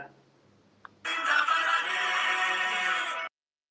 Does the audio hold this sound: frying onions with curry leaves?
no